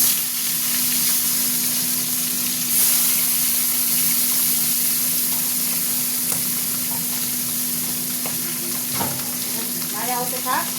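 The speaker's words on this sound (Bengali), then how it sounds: "আর দু পিস আছে, ভেজে নিই।" Pieces of bhola fish fry in hot oil in a home kitchen, with a loud, steady close sizzle and hiss throughout and occasional faint utensil clinks.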